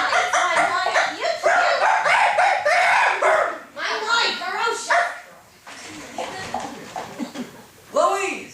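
On a World War II-era radio Christmas show, a dog barks, yips and whimpers in loud, repeated bursts close by, mixed in with people talking throughout.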